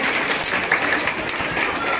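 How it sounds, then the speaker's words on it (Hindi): An audience at a Holi Milan award gathering applauds a recipient with a dense, continuous burst of clapping that holds steady and fairly loud throughout. "इनके लिए भी एक बार जोरदार तालियों के साथ स्वागत करेंगे।"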